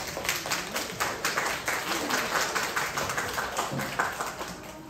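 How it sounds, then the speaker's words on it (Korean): Scattered, fairly faint audience clapping at a folk percussion troupe performance, continuous for several seconds in a roomy space. "박수 부탁드립니다"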